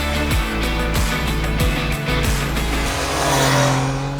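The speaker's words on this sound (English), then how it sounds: "This is probably one of the best sounding sub-1000cc Triumph inline 3s that I've ever ridden." Triumph Daytona 660 (2024) sports motorcycle with an inline-three engine, loud and close, its revs climbing and falling through repeated gear changes on the road, with no talk over it.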